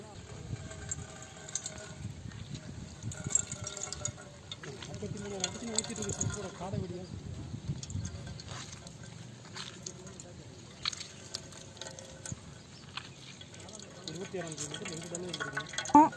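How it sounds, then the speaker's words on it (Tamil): Juice is squeezed by hand from cashew fruit in a village kitchen, giving faint wet dripping and trickling with small squishy sounds and soft irregular splashes, set against low background noise. "முந்திரி பாயத்தில் உள்ள சாரை எடுத்து எசன்ஸ் ஆக்கி அதில் தான் நம்ம இப்போ அல்வா செய்ய போகிறோம் சாரை புழியலாம் வாங்க"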